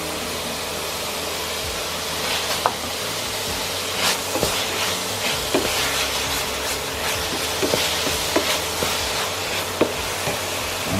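Onions and garlic hitting hot meat in a pan over high heat, a steady broadband sizzle with scattered sharp clicks and scrapes of stirring throughout.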